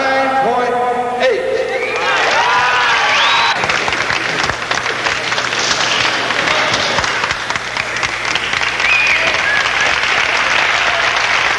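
Audience applause at a martial arts form competition after a round of judges' scores, dense sustained clapping with crowd noise that continues throughout, while several voices talk over it.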